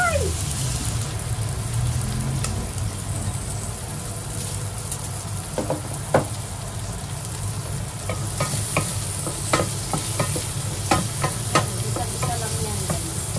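Onions sauté and sizzle in a pan for mung bean soup with pork ribs and malunggay, a steady crackling hiss broken by repeated scraping clicks of a utensil stirring, close and continuous.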